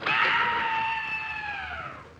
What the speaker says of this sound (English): What was that shriek?